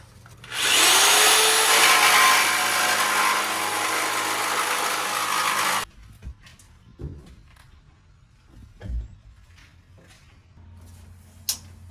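A jigsaw cuts a van ceiling panel, a loud steady buzzing whine for about five seconds that then stops abruptly, followed by faint knocks and handling sounds.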